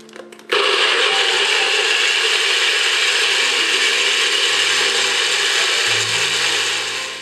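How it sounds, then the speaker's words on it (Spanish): An electric blender whirs into action after a brief click, blending about six tomatoes for a meatball stew, its loud motor roaring steadily and dipping slightly in pitch as it runs, with no talk. "entonces vamos a licuar los tomates"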